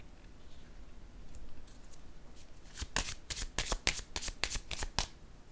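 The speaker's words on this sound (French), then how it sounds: "Je vais déposer une autre carte." A card being handled and laid down, with soft rustling at first and then a quick run of crisp flicking, riffling snaps close by, quiet overall.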